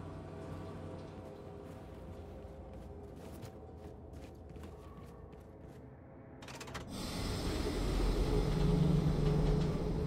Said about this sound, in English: Okay, train's got power. Let's find the controls and see if it moves.